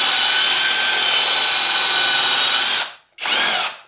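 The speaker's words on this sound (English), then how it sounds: "I was able to open that hole up with this bit" A power drill bit grinds out a hole in a metal door strike plate, a loud, high, steady whine for about three seconds, a brief stop, then a second short burst.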